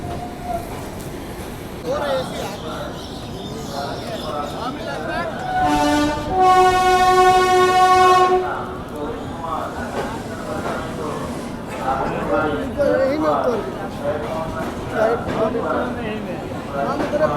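A South Bihar Express train pulls into Patna Junction, its horn sounding a long sustained blast partway through over steady rolling rail rumble, with people talking throughout.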